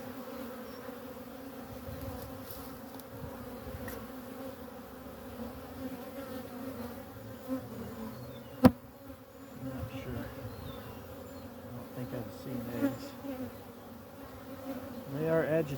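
Honeybees buzz in a queenless hive, a faint but continuous agitated hum at close range, with a few sharper buzzes passing the microphone and a brief knock midway.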